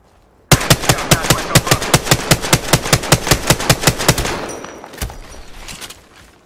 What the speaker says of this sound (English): Darn, shots fired and they're hitting me.